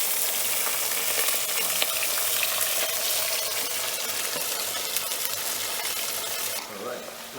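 Fish frying in a pan, a loud, steady, close sizzle that holds evenly before easing off near the end.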